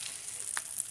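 Butter sizzles in a frying pan for a ghetto carbonara, a soft steady hiss with a brief louder crackle, heard alone.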